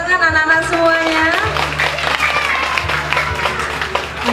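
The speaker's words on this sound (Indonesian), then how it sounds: "Boleh minta tepuk tangan anak-anak semuanya." Kindergarten audience applause at a school arts performance and graduation in Bojonegoro, a short burst of loud clapping heard under a voice speaking over a sound system with music tones.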